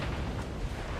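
A torpedo detonates against a ship in the naval battle game Ultimate Admiral Dreadnoughts, a dense, rumbling explosion that fills the whole short moment at steady loudness with no talk over it.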